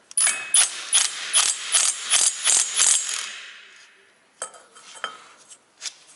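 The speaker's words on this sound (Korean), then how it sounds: "23mm 볼트로 조아주시면 됩니다." Metal bolt being tightened with a 23mm socket on a Kyeyang G810 engine, a run of about nine sharp ratcheting clicks in steady rhythm, then a pause and a few scattered metallic taps, close and clear with no talking.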